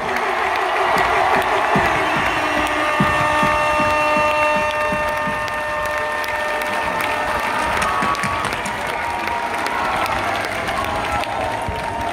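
A concert crowd at an outdoor live rap show in Thessaloniki applauds, loud sustained clapping and cheering filling the space throughout, with a voice speaking over it.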